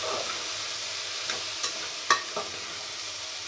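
Diced potatoes with Maggi masala and other spices are stirred in a frying pan, giving a soft steady sizzle and a few light spatula taps and scrapes at moderate distance.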